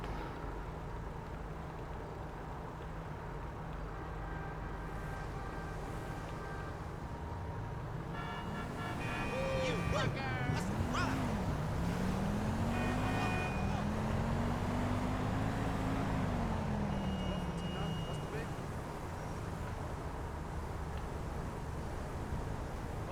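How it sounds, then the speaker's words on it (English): A vehicle in GTA 5 Online pulls away, its engine revving up and shifting pitch through the middle of the clip over steady in-game ambient hum, then settling back down. "I'm just going to have my second character get into that vehicle"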